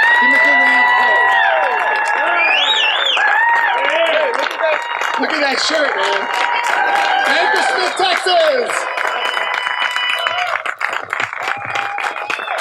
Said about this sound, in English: So give me a big round of applause.